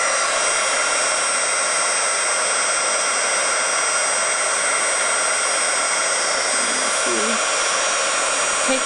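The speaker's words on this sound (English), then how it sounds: "I'm going to pull out my heat embossing tool. And I'm going to emboss it." A heat embossing tool blows hot air over a snowflake card, a steady close fan hiss and hum running throughout with no pause, a faint voice surfacing briefly near the end.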